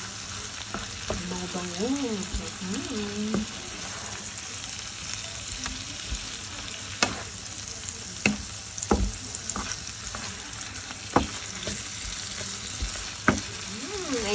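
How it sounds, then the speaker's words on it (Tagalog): Garlic browning in butter in a pan, a steady crackling sizzle with occasional stirring clicks and scrapes, a voice speaking briefly early on. "medyo pag-browning lang natin yung bawang."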